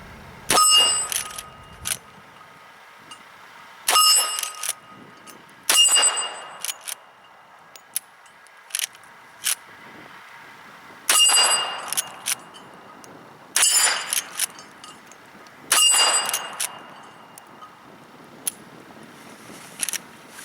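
Lever action rifle firing .357 rounds at a steel plate outdoors: six sharp, loud shots spaced a few seconds apart, each followed by a ringing metallic clang and brief echo, with no talk.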